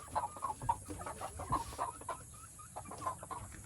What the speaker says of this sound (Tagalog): May sisiw na ito mga kabayan.